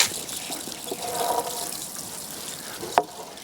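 Newly planted rose cuttings are watered in a garden bed, a soft trickle and splash of water running for a few seconds and ending in a brief sharper knock.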